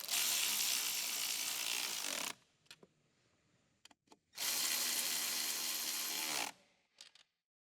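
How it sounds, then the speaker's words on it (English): An electric ratchet with a 10 mm deep socket on a long extension runs in two loud bursts of about two seconds each, tightening heater hose retaining nuts on a 2012-2017 Jeep Wrangler JK, with faint clicks and knocks in the gap between. "Using a 10 mm deep socket, long extension bar, and adapter, and an electric ratchet, tighten the heater hose retaining nuts."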